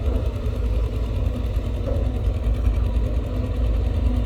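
Cat 320GX excavator with a Cat C4.4 diesel engine running at a low 1,650 rpm while dredging a pond, a steady low rumbling idle with an even mechanical knock, continuous and fairly close.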